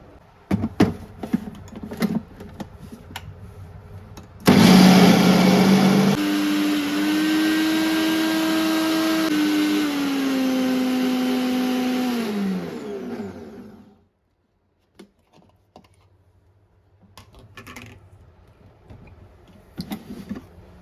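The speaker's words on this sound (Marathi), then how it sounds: "तर आता मी सगळी डाळ वाटून घेते." A mixer grinder grinds soaked urad dal into a thick medu vada batter: a loud, steady motor whine runs about nine seconds, dips in pitch near the end, then cuts off, with light kitchen clatter before and after.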